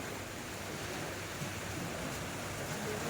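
Ocean waves breaking on the shore at night, heard as a steady, broad wash of surf with some wind noise, continuous and even throughout, with no voices.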